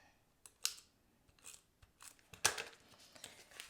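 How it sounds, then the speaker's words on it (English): A tape runner is pressed and dragged across a paper card close by, making quiet scattered clicks and short scraping rasps, with one stronger swipe near the end. "I'm going to go ahead and use my tape runner."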